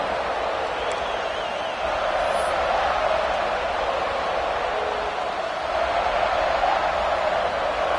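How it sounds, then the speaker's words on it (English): A big stadium crowd at an LSU home football game against Ohio State, a sustained distant roar of voices and cheering that swells slightly, heard steadily throughout. "This crowd ready to make its presence known."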